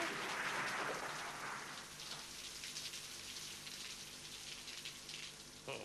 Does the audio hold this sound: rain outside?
yes